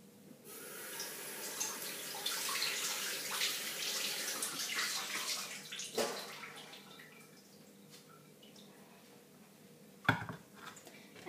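A serving bowl is washed under a running tap, water splashing and pouring steadily for several seconds with clinks of the bowl and a sharp knock near the end, fairly quiet and close.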